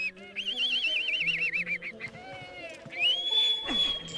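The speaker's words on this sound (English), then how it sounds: "Yep, that's the noise that those birds are doing. Those are actual recordings." Birds in the Zelda Twilight Princess game, voiced by real recordings, call over and over with warbling, wavering whistles and higher rising tones above a layered ambient backdrop, steady and fairly loud throughout.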